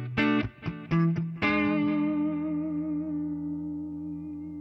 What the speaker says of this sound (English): with humbuckers, it sounds like this.